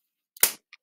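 A twisted balloon shaped like a Fortnite Loot Llama gives one sharp, loud pop as a twisted section is ripped off, followed moments later by a small faint snap.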